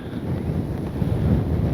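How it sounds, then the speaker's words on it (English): Steady wind at an outdoor RC airfield, a close, continuous low rumbling buffet on the microphone lasting throughout, with no voices. "Wind is hitting that big old rudder."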